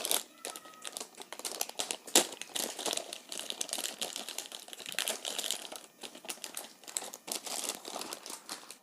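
A plastic bag crinkles and rustles in bursts as a 6-modular K9 switch box is pulled out of its packaging, close by and uneven, with no talking.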